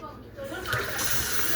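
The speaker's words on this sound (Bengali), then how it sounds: "আমার হাত ধুতে দিই।" Water gushes from a tap while someone washes their hands on a cold night during a trip in Georgia. The steady splashing rises after a brief quieter start.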